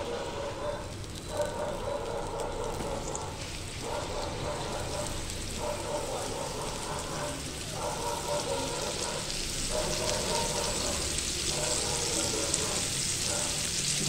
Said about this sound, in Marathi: हे बघा मंडळी, आता आपण हे पापलेट तव्यामध्ये टाकणार आहे.